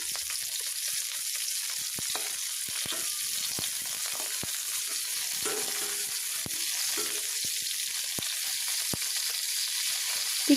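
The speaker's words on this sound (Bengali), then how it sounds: "কিছু সময় মাছটাকে ভাজতে থাকবো" Tengra fish frying in hot mustard oil in a kadai, a steady close sizzle with scattered sharp pops and crackles, no talking.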